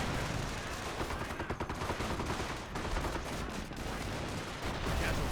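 A dense, continuous wash of battle noise from Company of Heroes 1: rapid gunfire and bursts that overlap with no breaks. The crackle and booms stay loud and steady the whole time.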